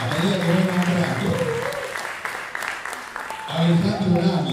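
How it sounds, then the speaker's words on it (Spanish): An audience at a live band show applauds loudly and continuously, the clapping swelling and fading while a voice talks over it on a microphone. "Vale los aplausos, ¿eh?"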